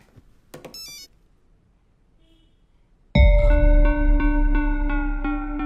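A mobile phone ringtone suddenly starts loud and close after a brief unrelated tonal sound, then keeps repeating a bright electronic melody.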